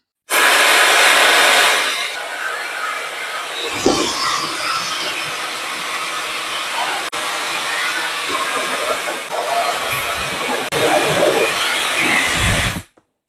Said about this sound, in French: L'objectif est de chronométrer le temps de séchage au souffle le plus fort et le plus chaud